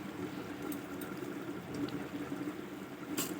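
Water pours in a steady, close stream into a pot for chicken biryani, a continuous gurgling splash with a brief brighter spatter near the end.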